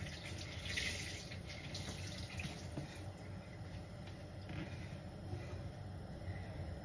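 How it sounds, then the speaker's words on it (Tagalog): A kitchen tap runs steadily into a sink while dishes are washed, a continuous broad rushing hiss that stays even and close throughout, with faint clinks buried underneath. "ako'y naghuhugas ng plato"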